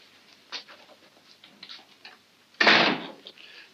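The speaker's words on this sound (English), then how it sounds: "Go outside and close the door." An indoor door is shut with a single sharp, close thud and rattle after a few soft footsteps and small creaks, alone without speech.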